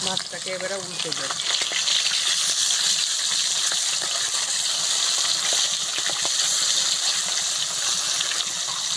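Pieces of fish sizzle steadily in hot oil in a village kitchen after being turned over, a dense continuous crackle with occasional sharp spits and a brief clink near the start.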